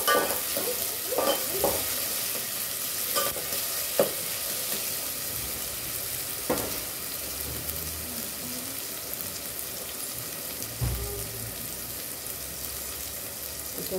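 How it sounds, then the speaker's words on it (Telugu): Garlic paste frying in a pan for chicken curry, a low steady sizzle with intermittent stirring scrapes and knocks, moderately close. "వెల్లుల్లి పేస్ట్ వేసాను"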